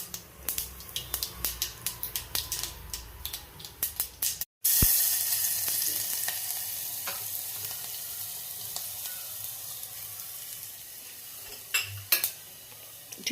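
Mustard seeds, asafoetida, garlic and onion hit hot oil in a pan: first quick clinks of a spoon against metal, then a loud steady sizzle that settles into a lasting hiss with occasional pops and taps, with no voices.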